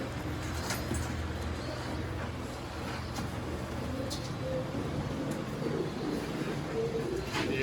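Pigeons coo at a Sialkot pigeon market, soft low cooing repeating under a steady bustle of crowd noise and passing traffic, with a few brief bird calls scattered through.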